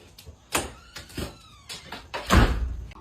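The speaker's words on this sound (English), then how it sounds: "pull at the door." A door being pulled open indoors produces a few close knocks and rattles, then a louder clattering thud near the end.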